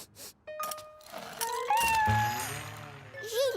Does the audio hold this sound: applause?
no